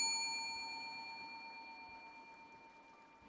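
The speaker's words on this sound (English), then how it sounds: "the two men stepped in to the sound of a small bell from above the door as they entered" A small bell hung above a bakery door rings as customers step inside, a single bright ding with a long, clear shimmering decay that fades slowly over a few seconds in a quiet room.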